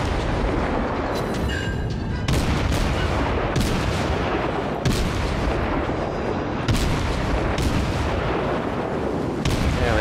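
Warship main guns firing in a World of Warships naval battle, a run of heavy booming salvos repeating every couple of seconds over a constant roar of engine and sea noise.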